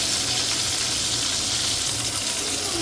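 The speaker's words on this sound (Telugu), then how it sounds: "చూసారా ఎలా మంచిగా ఫ్రై అవుతున్నాయో?" Ivy gourds (dondakaya) fry in hot oil for an Andhra-style pulusu, giving a dense, steady sizzle and crackle up close, with no voices.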